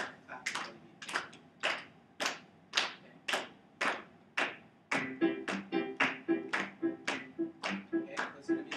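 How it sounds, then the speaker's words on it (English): Rhythmic hand claps from a group of children keeping time with a song's beat, evenly spaced and fairly close, becoming quicker and denser in the second half with a faint sung tone underneath. "I'm going to have you guys just go ahead and clap for the beat"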